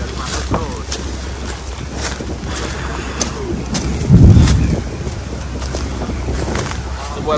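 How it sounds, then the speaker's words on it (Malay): Strong wind batters a moving boat at sea, a loud, constant rumble and buffeting against the microphone, with a heavier gust or splash midway and voices faintly mixed in. "Naik bot kalau angin kuat macam ni bukan mudah."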